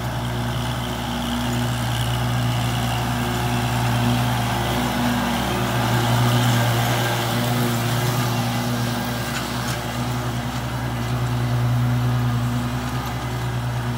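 A Kubota L2501 tractor engine runs steadily at high RPM with a finishing mower, a constant droning hum with no breaks or voices throughout.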